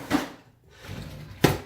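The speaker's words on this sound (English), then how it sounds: "provided I put them in the correct drawer" A drawer in a workshop slides open and then shuts. There is a soft knock near the start, a quiet rolling slide in the middle and a sharper close at the end.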